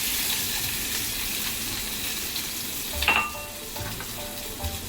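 Garlic and chili paste with a pinch of asafoetida sizzles steadily in a kadai, a close, even hiss of frying broken by a few light metallic clinks partway through.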